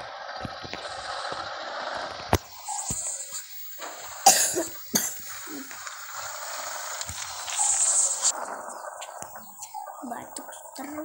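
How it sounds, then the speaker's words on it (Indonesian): Repeated close coughing from a person in a room, several sharp bursts spread across the stretch amid quiet background rustling and faint scrapes. "Batuk terus ya guys."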